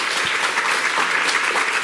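A room full of women at an evening charity event against cardiovascular disease applauding themselves, a dense, loud, even roar of clapping from a large crowd, continuous from start to finish.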